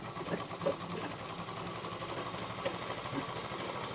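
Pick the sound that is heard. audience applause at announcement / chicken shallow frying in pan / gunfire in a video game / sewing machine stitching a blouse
sewing machine stitching a blouse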